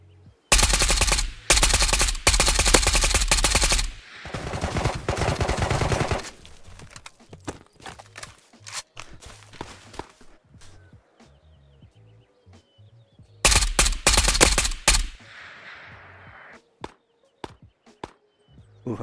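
Fast automatic bursts from an AK-Alpha rifle with a drum magazine in the shooter game Ghosts of Tabor, loud and close, rattling in long strings, then scattered single shots before a final heavy burst and quieter trailing clicks.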